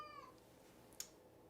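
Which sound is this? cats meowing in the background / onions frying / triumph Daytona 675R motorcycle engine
cats meowing in the background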